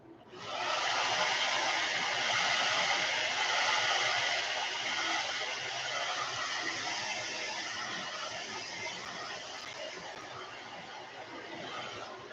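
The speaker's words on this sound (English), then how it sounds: "I'm going to do a quick dry on this." A hair dryer drying paint on a hand-painted glidebait fishing lure, a steady, loud, close airy whoosh that starts abruptly and runs unbroken for about twelve seconds, easing slightly toward the end, with no talking.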